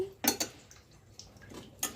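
A knife slicing native tomatoes for a traditional pickle, a few crisp cutting clicks against a board or bowl, close and fairly quiet, with gaps between strokes.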